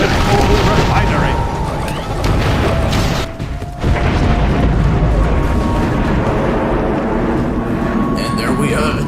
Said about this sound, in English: Throw the bomb into the smoke belcher to destroy the coal refinery.